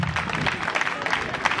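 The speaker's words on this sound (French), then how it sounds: "On applaudit, s'il vous plaît." Audience clapping at a school ceremony, a steady dense patter of applause from a crowd, fairly loud and continuous throughout the short stretch with no talk over it.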